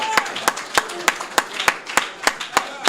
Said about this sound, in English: Let's give the Honorable Minister Louis Farrakhan a well-deserved round of applause